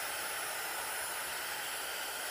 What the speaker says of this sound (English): switch on your hairdryer,